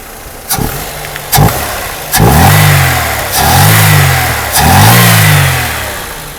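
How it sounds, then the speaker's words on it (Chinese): A Mercedes-Benz S124 230E engine, just repaired after a faulty fuel distributor, revs up loudly several times in quick bursts, each swelling and falling back toward idle, close by with no talking. "我们来做个引擎提速。"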